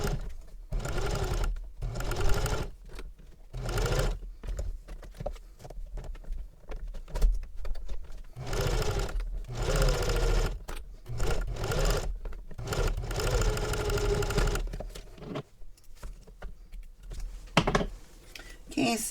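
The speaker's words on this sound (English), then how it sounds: "And then sew using a 1/4 inch seam allowance." Domestic sewing machine stitching a seam with a quarter-inch allowance on a fabric travel belt, running in short repeated bursts with pauses, close and fairly steady, with a voice speaking in between.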